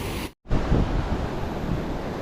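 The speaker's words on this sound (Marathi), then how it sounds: "बघा लाट कसा आला" Sea waves wash onto a Konkan beach during shore fishing, a steady broad roar of surf with wind buffeting the microphone and a short dropout near the start.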